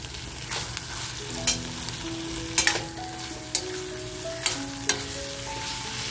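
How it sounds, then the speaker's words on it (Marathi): Eggplant sizzles in a pan with masala and dried fish, a steady close frying crackle broken by several sharp stirring clatters, with faint tonal sounds in the background. "म्हणजे वांग सुद्धा असं मस्त मसाल्याबरोबर फ्राय होईल."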